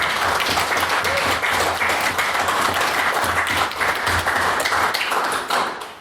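Audience members in a debating chamber give a loud, continuous round of applause honouring competitors returning from a women's open debating tournament, with steady dense clapping and no talk.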